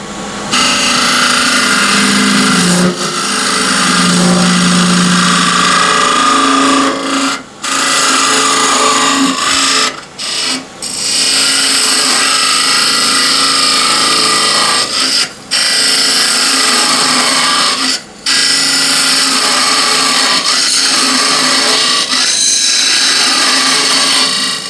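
Gouge hollowing the inside of a walnut spatula pot on a wood lathe, a loud, steady scraping and cutting roar that runs close and continuous, broken by a few brief pauses.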